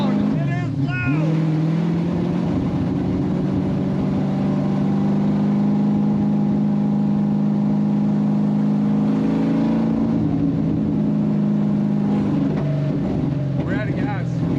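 A car engine drones loudly and steadily, close up, with a constant low roar that slightly surges and dips, filling the whole stretch while voices talk faintly underneath.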